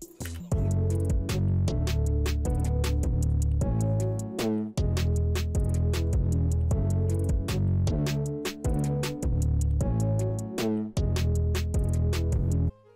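A full hyperpop glitchcore track plays loud and dense, with punchy drums, rolling hi-hats and bright synth melody lines together, stopping briefly near the middle before resuming, with no voices.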